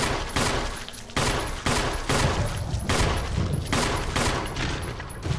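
Infinite-ammo handgun in the Resident Evil remake firing in a loud, steady run of rapid shots, one after another with no pause, close and dominant over a dense game soundscape.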